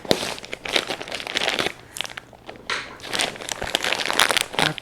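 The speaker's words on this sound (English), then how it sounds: "I have to be very careful on this one because this bag is really tight." Crinkling and crunching of a tight plastic bag being worked open around a Mary Maxim crochet kit, up close, in uneven bursts with short pauses and no talking.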